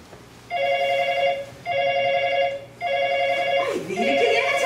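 A telephone rings in three evenly spaced electronic bursts, each about a second long and fairly loud, with a short pause between them, in a staged skit about a mother-in-law's phone call.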